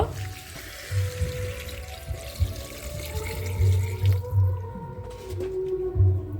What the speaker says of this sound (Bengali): আলুর সাথে পরিমাণ পরিমাণ মতন জল দিয়ে দেব